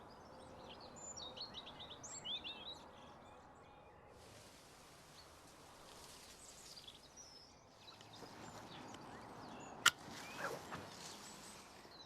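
Birds singing in a garden, faint chirps and tweets rising above soft rustling, with a brief sharp sound near the end, all quiet and some distance away.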